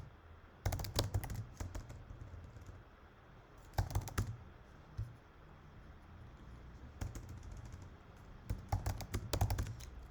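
Fingers type a prompt on a computer keyboard in several short bursts of rapid clicking keystrokes, separated by quiet pauses, close and moderately loud over a faint room hum.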